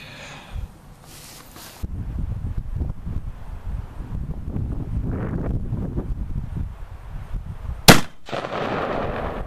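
A gun fired at a car engine outdoors gives one sharp, loud crack near the end, set against steady wind buffeting the microphone and low rustling.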